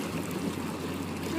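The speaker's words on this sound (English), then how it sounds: "What a pretty fountain." Water splashes steadily in an outdoor fountain near palm trees, a soft continuous trickle heard close up with no talking over it.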